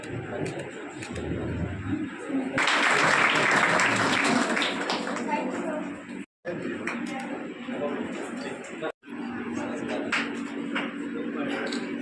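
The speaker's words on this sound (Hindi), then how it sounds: "A round of applause please." Audience applause breaks out at the opening ceremony of a free competitive-exam coaching centre in Belgarhia, India. Steady clapping from a seated crowd rises after a spoken request, with chatter and brief pauses, and a speaker talks through much of it.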